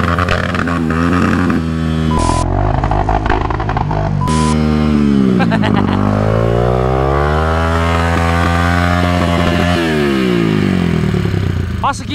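A dirt motorcycle on a muddy trail revs hard and close, its engine note climbing and falling in long sweeping pitch bends with short cut-offs between bursts, loud and raw, with voices talking over it.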